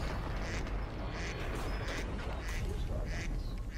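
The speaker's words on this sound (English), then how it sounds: "Where's that duck noise coming from?" Repeated cartoonish duck quacks spammed by another player in the Destiny video game, loud and continuous over a dense, noisy game soundscape.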